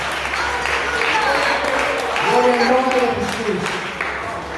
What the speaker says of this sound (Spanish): Alguien puede dar un fuerte aplauso a Rey de Reyes.